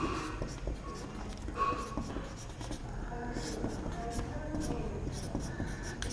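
Chalk or marker writing an example on a classroom board, soft scratchy strokes in short bursts over a quiet room hum.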